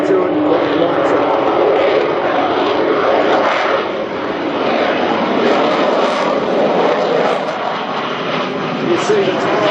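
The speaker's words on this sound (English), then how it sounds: "Listen to that sound of that engine, and then listen to it when it lights up." An RC model turbine jet engine runs at the Hunter Valley airshow, a loud, steady, close roar that holds unbroken for the whole stretch, with voices faintly mixed in.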